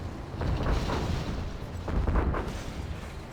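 Scud launcher missiles explode during a match of C&C Generals Zero Hour, a series of heavy booms and rumbling blasts rolling in close succession over a steady battlefield din, with no voices.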